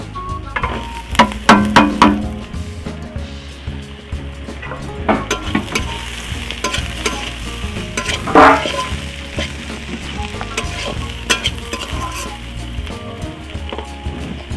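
Figs and potatoes fry in a pan with a steady crackling sizzle, punctuated by repeated clanks and scrapes of a utensil stirring and lifting the pieces.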